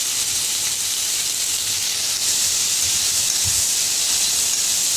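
Onions and black cumin seeds sizzle in hot oil in a pan just used to fry egg, giving a loud, steady hiss that fills the whole stretch with no talking.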